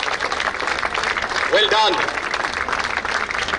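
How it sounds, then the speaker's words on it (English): Audience applause at a badminton tournament prize distribution, a steady patter of clapping from a crowd beneath an announcer's amplified voice, with a brief bright electronic chime in the middle. "Keep the claps going. We can do better than this."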